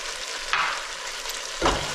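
Spices stirred into ground meat frying for chili, a steady sizzle broken by two scraping stirs of the spoon through the pan.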